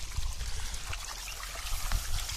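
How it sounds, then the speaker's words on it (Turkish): Irrigation water spurts from holes in pipes laid across a muddy wheat field, a steady, close rushing flow with small splashy surges throughout. "Böyle sulama yapıyoruz."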